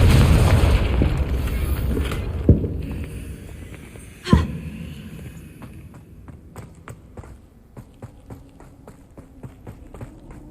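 The Confringo blasting spell in the video game Hogwarts Legacy goes off with a loud boom, followed by a fading rumble and a quick run of light footsteps, with a spoken voice in the game.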